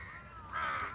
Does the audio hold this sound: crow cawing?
yes